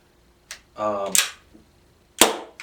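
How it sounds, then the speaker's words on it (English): An Army Armament R17 airsoft gas blowback pistol fires a few quick, sharp snaps of the slide cycling, close and loud, with a brief voice between shots. "This is a gas blowback pistol."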